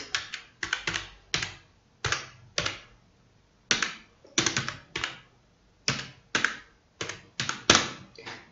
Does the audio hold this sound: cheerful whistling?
no